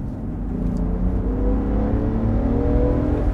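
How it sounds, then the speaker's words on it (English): A 2021 Land Rover Defender 90 is floored at full throttle in drive in sport mode, its turbocharged engine giving a deep, steady, loud rumble that climbs gradually in pitch. "I'm gonna floor it one time in drive"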